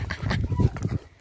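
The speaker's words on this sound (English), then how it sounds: "Puppies." Puppies make a short burst of close, busy yelps and whimpers, lasting about a second before it fades.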